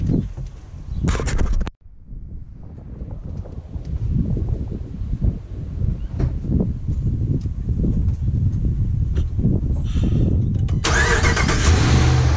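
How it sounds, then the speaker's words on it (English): 2016 RAM 1500 with a 5.7L Hemi V8 cranks briefly, then fires up and settles into a steady, rumbling idle that holds for several seconds, close and clear, with a faint bird in the background. "I'll start it up, we'll idle that for about 10 to 15 minutes"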